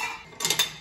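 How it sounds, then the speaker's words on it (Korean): Dishes and cutlery clinking together while being handled during washing up at home, a few brief clattering knocks close by, no talking. "설거지 하려고 아들이 도와주네요."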